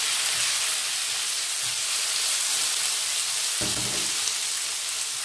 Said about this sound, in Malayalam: അതുപോലെ നമുക്ക് സവാള ഒന്ന് മൂപ്പിച്ചത്.